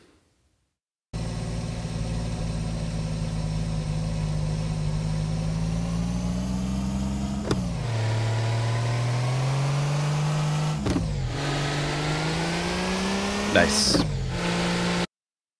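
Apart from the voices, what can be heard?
car engine revving with gear shifts, game audio in Unity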